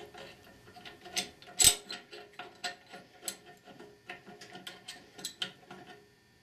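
A Chrysler 46RE transmission shaft worked back into its assembly on a bench, producing a series of small, close metallic clicks and taps in an irregular rhythm, with one sharper knock early on.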